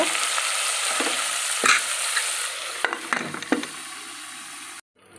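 Masala frying in oil inside a pressure cooker for country-chicken biryani, stirred with a few scraping strokes over a steady sizzle, close and fairly loud, then cut off abruptly near the end with a brief silence.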